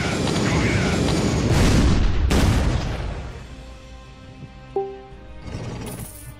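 Booming tank-shell explosion in the artillery video game ShellShock Live: a loud blast with a long rumbling tail that fades, then a short electronic tone and a few sharp effects.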